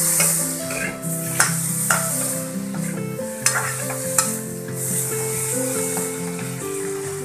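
Tomatoes fry and sizzle in a pan for fish curry, with steady stirring scrapes and a few sharp clinks over a continuous hiss, close and fairly loud, with music playing underneath.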